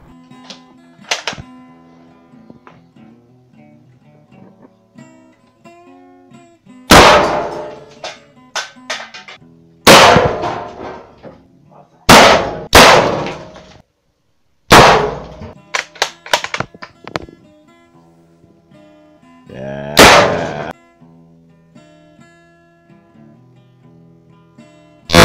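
A Gras 1874 rifle fires black powder cartridges outdoors on private land: six loud, sharp reports spaced several seconds apart, each decaying quickly, with a quiet background between them and no talking.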